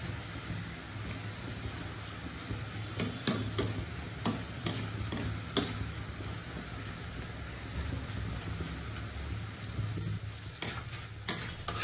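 Bundia batter frying in hot oil, a continuous soft sizzle with scattered sharp ticks and clinks of a utensil against the pan, fairly quiet and steady with no voices.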